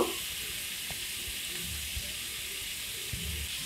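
Carrots sizzling as they go into a pan of lightly fried vegetables for labra, a Bengali mixed-vegetable dish, with a steady close frying hiss and a few soft stirring knocks throughout.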